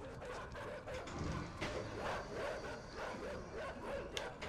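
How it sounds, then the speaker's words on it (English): Dogs bark repeatedly in the video game Inside, a dense run of loud barks under game noise, with a brief spoken word. "Dogs."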